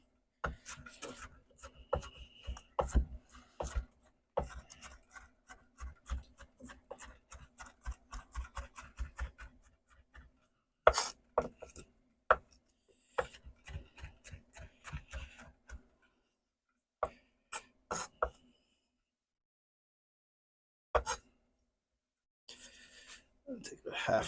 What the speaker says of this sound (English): And now we'll just chop them up best we can.